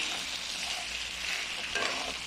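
Garlic and onion fry in a pan with boiled beef, making a continuous close hiss and sizzle with light stirring over a short stretch.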